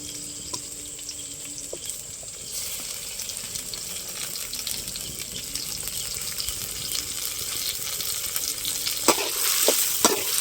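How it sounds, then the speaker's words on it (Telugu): Onions and tomatoes fry in hot oil in a pan for a Telugu-style korameenu fish curry, giving a continuous sizzle with stirring scrapes and a few sharper clinks near the end. "ఎర్రగడ్డలు వచ్చేసి అలా బాగా నూనెలో బాగా వేగిపోవాలండి"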